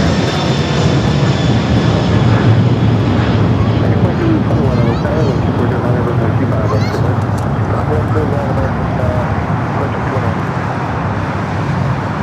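A Western Global cargo aircraft bound for Shenzhen roars steadily at LAX, a loud broad jet rumble that holds for the whole stretch, with traffic noise mixed in underneath.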